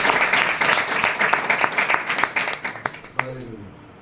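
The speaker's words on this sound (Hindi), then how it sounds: "फिर से ताली दीजिए।" A church convention congregation claps in applause for several seconds, dense and loud at first, breaking into scattered individual claps before trailing off.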